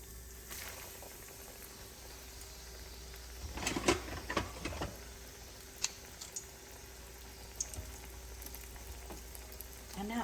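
Green tomato slices frying in hot oil in a skillet, a steady quiet sizzle with a brief burst of crackling as pieces drop in, then light pops and clinks over a low background hum.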